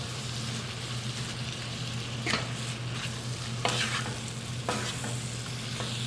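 Crawfish tails dumped into a pan of hot butter, a steady close sizzle with a few scraping stirs and clatters breaking through the frying hiss.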